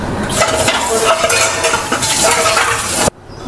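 Dishes being washed and scrubbed by hand, a dense close clatter of metal utensils and pots with rubbing scrapes and splashes, continuous and loud before cutting off abruptly near the end.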